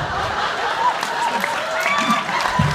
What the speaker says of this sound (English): Nice applause, everybody.